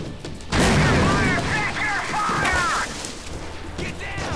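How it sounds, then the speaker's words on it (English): A grenade explodes in the war game Heavy Fire Afghanistan, one loud, close blast with a rolling rumble tail, while voices talk over the aftermath. "Let's go ahead and throw a grenade"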